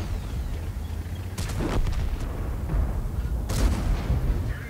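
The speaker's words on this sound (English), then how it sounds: "Enemies are under constant fire. One shoots, reverse, leave the space for another one" Tank cannon fire in World of Tanks on the Sacred Valley map, with a T110E5 heavy tank in a platoon: two loud, sharp booms a couple of seconds apart over a low rumbling engine and battle background.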